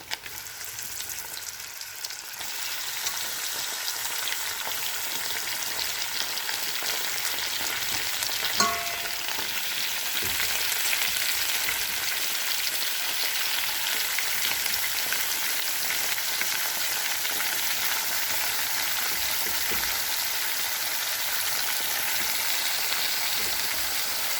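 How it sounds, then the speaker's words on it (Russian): Steady, continuous sizzling of lamb meat frying in hot fat, with a brief clatter partway through and no talking. "Пока у нас жарится мясо,"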